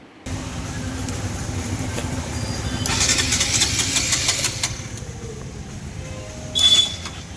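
A Bajaj Pulsar NS200 motorcycle engine cranks and fires up, then keeps running with a close, rough, steady idle. A brief louder burst comes near the end.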